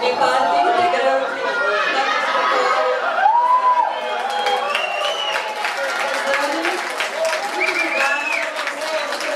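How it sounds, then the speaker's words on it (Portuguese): Audience applause after a performance at a cover show, steady clapping mixed with crowd chatter and a few cheers throughout, with voices talking over it. "Uma salva de palmas a ele."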